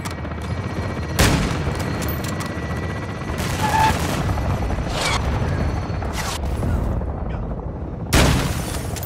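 Gunfire in the video game Call of Duty: Modern Warfare II, with a rooftop firefight and a helicopter nearby: several sharp, loud shots spaced a few seconds apart over a dense, continuous rumble of battle.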